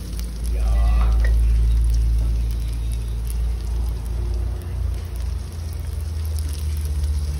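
Egg frying in hot oil for a Thai dish of fried egg with vegetables, a steady close sizzle over a heavy low rumble throughout, with a brief faint voice early on.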